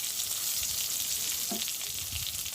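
Onion, garlic and turmeric fry in hot oil in a village kitchen as more oil is poured in, a steady loud sizzle with a brief stir or splash midway.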